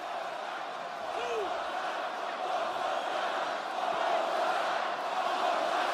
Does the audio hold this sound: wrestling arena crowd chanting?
yes